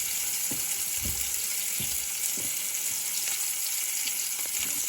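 Hot oil sizzles and crackles steadily in a pan, a dense continuous hiss with soft intermittent ticks and stirring taps, fairly quiet and without voices.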